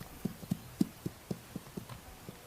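Hooves of a wild horse from the Pryor Mountain herd clip-clopping at an irregular walking pace, about ten soft, distinct thuds over a few seconds, fairly close and quiet with no voices.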